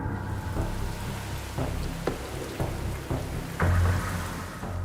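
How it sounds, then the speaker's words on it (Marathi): Steady rain hisses throughout, with a few dull thumps and low rumbles breaking through the downpour. "राज्याच्या विविध भागात आलेल्या पावसानं दाणादाण उडवून दिली आहे"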